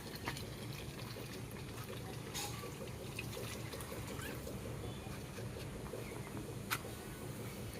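Water flowing in steadily, a continuous faint gush and trickle throughout with a couple of brief clicks, heard outdoors on a trip through Banaskantha.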